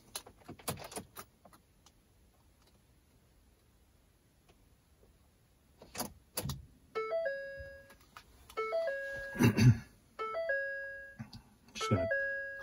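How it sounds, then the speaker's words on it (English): 2012 Ford F150 FX4 pickup being cycled on and off: sharp key and switch clicks, then repeated electronic dashboard chimes in stepped tones, quiet between bursts and heard up close. "So I'm going to cycle the truck on and off."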